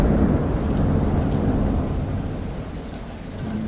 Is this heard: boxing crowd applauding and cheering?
no